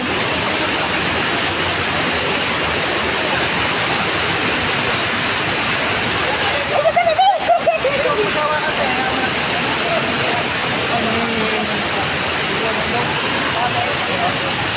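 Spring water and a waterfall rush steadily at Tri Falls in Laguna, a constant broad wash of flowing water. A brief voice rises over it partway through.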